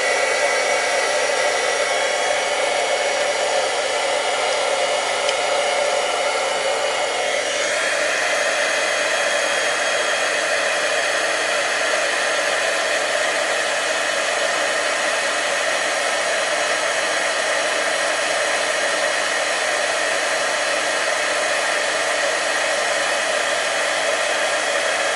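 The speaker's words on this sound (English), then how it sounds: "So I'm going to heat set it with my gun, so hold on a second." A heat gun blows continuously to heat-set stamping ink on a paper craft project, a close, loud, even whooshing roar that holds steady throughout, with a slight shift in pitch early on and no talk.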